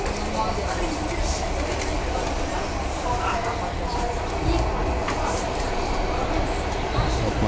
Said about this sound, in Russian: Поезд трогается.